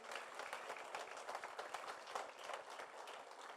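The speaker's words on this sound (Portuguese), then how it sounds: "Dê um aplauso ao Senhor por isso." Applause fills a church service, with dense, steady clapping from a congregation running throughout at a fairly even level.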